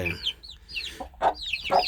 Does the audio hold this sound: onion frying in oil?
no